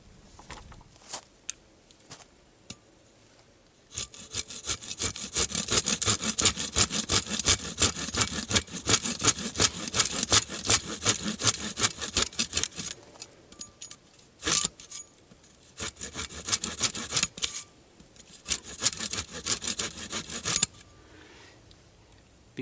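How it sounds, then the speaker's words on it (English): Birch wood sawn by hand with the short saw blade of a SportsTek combo shovel survival tool, quick rhythmic rasping strokes in several bursts separated by brief pauses. "I found a piece of birch, and so we're going to try sawing that"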